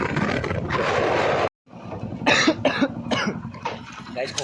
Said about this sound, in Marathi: गाईस खोकला झालाय, सर्दी खोकला दोघं झालाय.